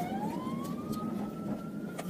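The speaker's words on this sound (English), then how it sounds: "One of them volunteer fire trucks. It's not really a fire truck, but it still got lights and sirens." A volunteer fire truck's siren wails past in traffic, a steady rising-and-holding tone over loud road and engine rumble, with no talk in the clip.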